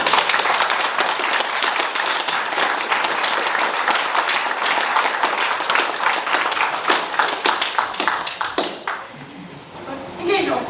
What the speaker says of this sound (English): So I think we all need a round of applause,